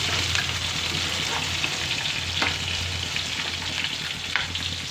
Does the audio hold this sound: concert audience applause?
no